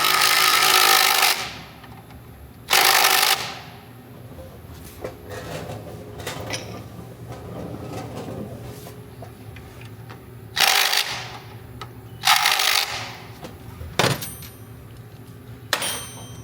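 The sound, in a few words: power tool tightening engine mount bolts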